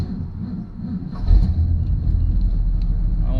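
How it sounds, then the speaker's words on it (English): A car's starter motor cranks slowly and labours as a low, heavy rumble that swells partway through and holds steady, with no talking. The car is on a road trip to the 2023 Power Tour and gets 13 miles to the gallon. "don't like how slow that starter sounds."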